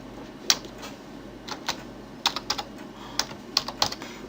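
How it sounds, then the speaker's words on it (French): Keys clatter on a computer keyboard while text is entered into a PDF in Adobe Acrobat Reader, light irregular clicks in small bursts, close and fairly quiet against a faint background hum. "Et vous pouvez commencer à taper du texte."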